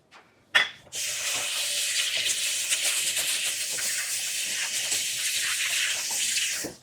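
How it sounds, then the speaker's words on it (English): Hands are washed under a running kitchen tap during cookie baking, a steady close hiss of flowing water that starts abruptly after a brief knock and continues alone. "And wash your hands again."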